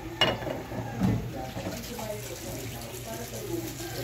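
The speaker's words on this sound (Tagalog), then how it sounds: "Tapos, lalagyan po natin ng tubig." Water splashes into a cooking pan holding sautéed pork, a short close pour that settles into softer trickling and light sizzling under a faint voice.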